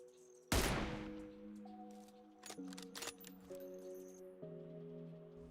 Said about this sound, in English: Here I am shooting from high ground to low ground around 475 meters.